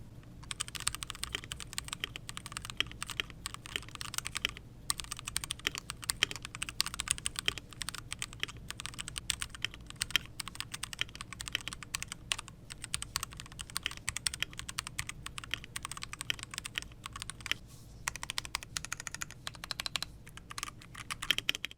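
Steady, quiet typing on a budget mechanical keyboard with IROK red switches, soft muffled keystrokes in a continuous rapid patter with no talking.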